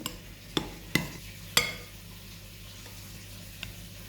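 Tabbouleh salad is tossed and mixed in a bowl, giving a few quiet, sharp clinks and scrapes of a utensil at irregular intervals over a faint steady hum.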